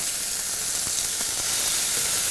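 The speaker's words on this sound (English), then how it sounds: "We're going to take our mussels and they're going to go in." Mussels fry in oil with Thai green curry paste, producing a loud, steady hiss and sizzle close up, broken by a few faint clicks, with no voices.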